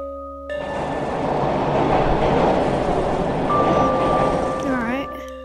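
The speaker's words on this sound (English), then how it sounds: "the incoming train is heading uptown" A subway train in a video game rolls into an uptown station, a loud, steady rumble and roar swelling for several seconds with a rising squeal near the end, under a faint game tone.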